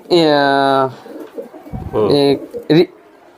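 A racing pigeon coos in a few drawn-out calls close by, with people talking in between.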